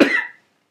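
A single short, close cough bursts out sharply and fades within half a second, in a quiet room.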